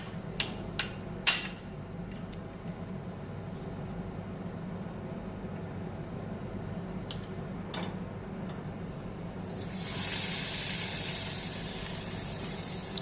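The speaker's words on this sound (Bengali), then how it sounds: "এটাকে এবার তেলে ভাজবো। কড়াইতে দিয়ে দিয়েছি সর্ষের তেল" Pumpkin seeds drop into hot mustard oil in a kadai. A few sharp clicks come first, then a quiet stretch, then a sudden steady hissing sizzle that carries to the end.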